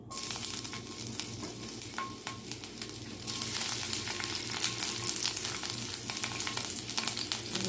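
Green peppers sizzle and crackle in a hot pan of home fries for breakfast potatoes, a steady dense frying hiss that grows louder partway through, with a few stirring clicks and no talking.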